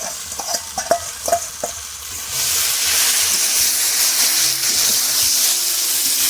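Fried lote dried fish is tipped into a pan and stirred: a few sharp clinks and scrapes of a spatula, then a loud, steady sizzle of frying close up.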